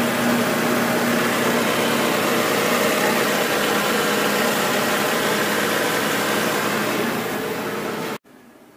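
A 1994 Mercedes-Benz G320 engine with an oil leak idles steadily close by, a constant mid-pitched hum with a faint tonal drone, then cuts off abruptly near the end.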